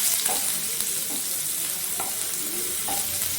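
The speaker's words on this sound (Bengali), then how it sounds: "এরপর পেঁয়াজটাকে আমি একটু নাড়াচাড়া করি।" Onions being stirred as they fry in a pan for an egg curry, a steady loud sizzle running throughout with a few soft scraping strokes of the stirring utensil, no voices.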